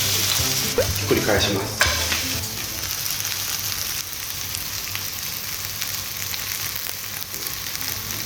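Korean vegetable pancake (chijimi) fries in a hot pan with a steady, close sizzle throughout. A few clattering touches come early, and a voice speaks briefly.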